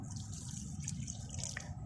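Water poured into a freshly dug planting hole in soil for a tree, a soft steady trickle and splash close by, with no talking.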